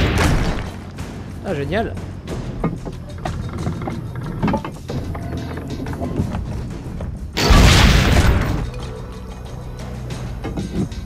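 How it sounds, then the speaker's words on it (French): Cannon firing at target dummies in Assassin's Creed Brotherhood, a heavy booming blast with rumbling decay standing out late in the clip amid game noise, with someone speaking briefly. "Tirez sur les mannequins cibles."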